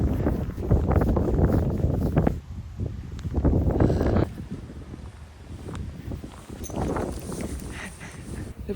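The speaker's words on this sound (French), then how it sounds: "Il y a du vent." Gusty outdoor wind buffets the microphone in loud, uneven bursts, with rumbling low roar that swells and drops across the stretch, and a voice speaks briefly underneath.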